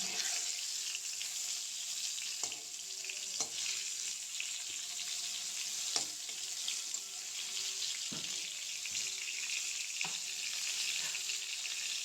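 Pointed gourd (potol) pieces fry in oil over a low flame, giving a constant hissing sizzle up close, with periodic sharp clicks and scrapes from turning the pieces.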